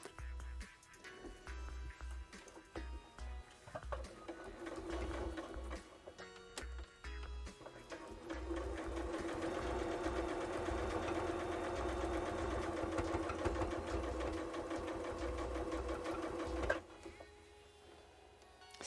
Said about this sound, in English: starting with just a very simple quilt in the ditch around the outside of this patchwork